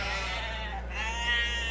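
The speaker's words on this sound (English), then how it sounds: "Where did those sheep come from?" Sheep bleat in a wavering, sustained call in an animated kids' cartoon, heard over a steady low hum and background music.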